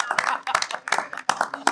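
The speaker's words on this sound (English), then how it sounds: "Round of applause, I should say." Brief scattered clapping from a small audience at a board of education meeting, a few hands beating in uneven bursts with speech mixed in.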